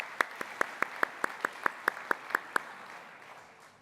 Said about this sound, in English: I'll give you my viva applause